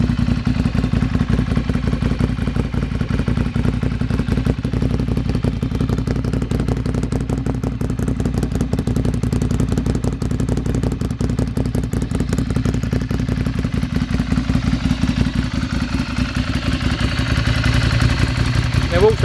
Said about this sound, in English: that's what a Monster air-cooled V-twin sounds like with